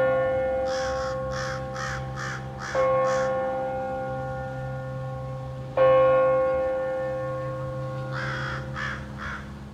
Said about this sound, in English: the big giant crow had showed up. And it's sitting about 20 feet away